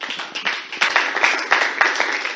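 Enthusiastic crowd applause at an International Women's Day conference, a dense wash of many hands clapping that swells and stays loud throughout, with a few sharper individual claps standing out.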